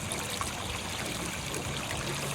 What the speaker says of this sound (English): With this water kind of pouring in like a waterfall like that